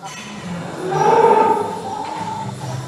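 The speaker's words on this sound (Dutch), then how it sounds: "Hier zien we onze koeien." A freshly milked dairy cow, tied at the feed fence in a barn, gives one drawn-out moo that swells and fades, close and clear over a quiet barn hum.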